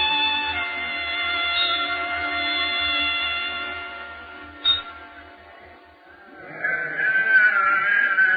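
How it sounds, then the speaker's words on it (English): Sheep in a barley field bleat in a wavering, drawn-out call, moderately close, followed by a shorter second bleat and some background noise. "Abel, get your sheep out of my barley field"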